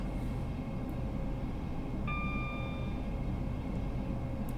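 The diesel engine of a Class 170 train in Train Sim World 5 drones in a steady, quiet rumble, with a faint tonal whine joining midway and no talk.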